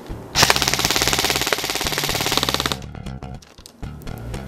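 Airsoft gun firing full auto into a barrel sock, a loud rapid rattling burst lasting over two seconds, followed by a few scattered clicks and clatter.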